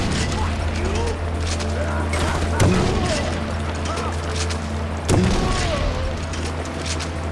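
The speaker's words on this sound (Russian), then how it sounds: "Нам придется использовать данную пушку." Gunfire in the Far Cry 4 video game comes as a couple of sharp reports over constant loud game noise and mechanical clatter, with someone talking throughout.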